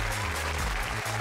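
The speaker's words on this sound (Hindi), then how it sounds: "सब इनके लिए तालियां बजाओ" Brief applause from a group clapping for the builders of a water park in a Poppy Playtime game scene, a dense, loud patter of hands lasting about a second.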